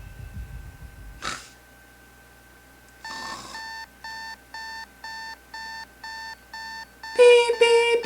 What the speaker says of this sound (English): I begin my morning routine by slapping the crap out of my alarm clock.